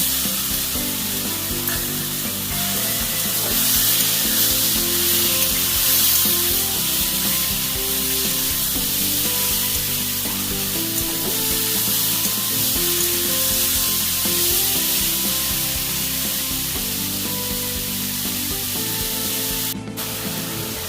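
Turmeric-coated shrimp sizzle and spit steadily in hot oil in a pan, a loud continuous frying hiss that runs throughout without talk.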